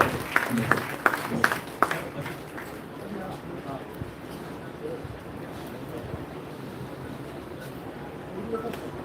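At a national conference valedictory session, an audience breaks into applause: scattered sharp claps at first, then a softer continuous patter that carries on in a large hall.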